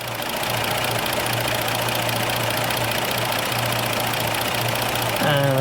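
A hot car engine with an oil leak runs steadily up close, a constant loud mechanical hum and clatter with no break.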